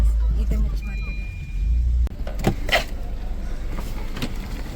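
A Mahindra car rolls past on a street near a fish market, a low engine rumble that drops away after about two seconds, followed by scattered clatter and brief voices.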